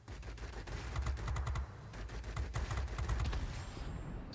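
Machine-gun fire from an F-84B in World of Warplanes, rapid bursts of rattling shots in quick succession with a brief pause midway, moderately distant over a steady engine drone.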